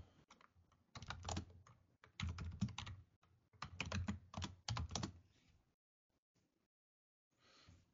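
Fingers type on a computer keyboard at a Linux terminal, with quick clusters of close, soft key clicks that pause and trail off into near silence.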